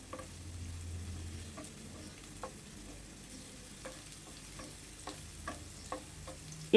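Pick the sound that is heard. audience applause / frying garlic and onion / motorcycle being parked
frying garlic and onion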